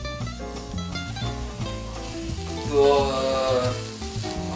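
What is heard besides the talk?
sauce with anchovies sizzling in pan as water is added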